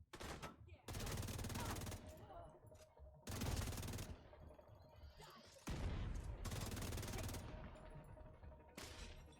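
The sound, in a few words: explosion in the video game The Division 2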